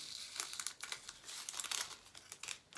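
Diamond painting drills poured from a cut-open plastic packet into a tray, a dense, continuous crinkly rattle of tiny resin pieces and crumpling plastic, close up and steady with no talking.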